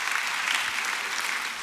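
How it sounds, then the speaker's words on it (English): Applause from a church congregation, a dense, steady burst of many hands clapping at an even level throughout, with no voices over it. "Give yourselves a round of applause"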